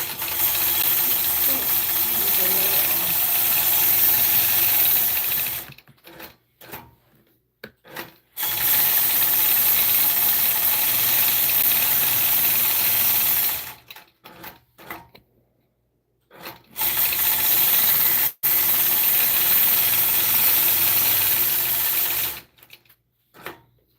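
A just-repaired sewing machine running in long steady bursts with a rapid mechanical whir and hiss, stopping between runs for quiet pauses.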